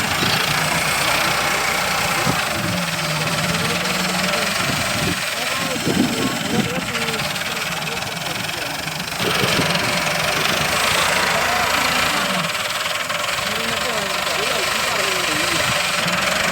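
A tractor engine idles steadily and loudly at close range throughout, a continuous mid-pitched rumble with faint voices underneath, on a farm during straw loading.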